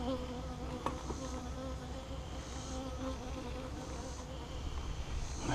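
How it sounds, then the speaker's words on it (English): A honey bee buzzes steadily close to the ear during a top-bar hive inspection, a continuous agitated drone alone with no talk. "Buzzing around my ear, she's not happy."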